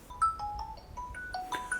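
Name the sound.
phone ringtone heard through Blackview Airbuds 3 earbuds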